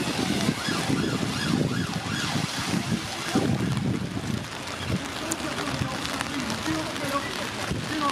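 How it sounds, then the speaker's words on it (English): Police car siren in Scotland, its wavering wail rising and falling at a distance under wind and outdoor noise, with people talking over it throughout. "Oh, there's the police car."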